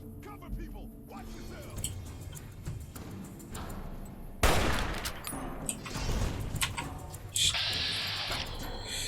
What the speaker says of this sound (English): There's a fire and shooting everywhere.